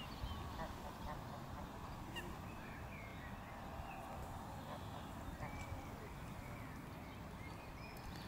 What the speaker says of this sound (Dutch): De ganzen zijn nieuwsgierig, die komen naar onze kant toe.